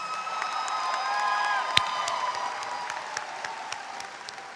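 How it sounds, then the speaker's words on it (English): A crowd applauds graduates at a university fall commencement ceremony, with steady clapping from a large audience, one sharp loud clap near the middle and faint cheering mixed in. "Let's give our graduates another round of applause."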